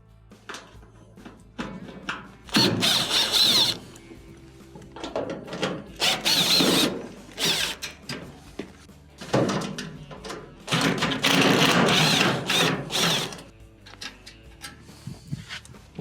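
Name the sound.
removing Phillips screws from dryer top panel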